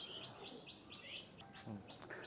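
Young pigeon chicks of a surgery-type breed, sold among teddy pigeons, give a run of thin, high repeated cheeping calls, fairly close and clear over a faint background hum.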